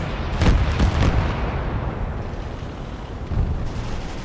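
Artillery volleys land in Gates of Hell, a World War II German invasion of the Soviet Union, as several deep booming impacts in quick succession, then a rolling rumble and one more distant blast near the end.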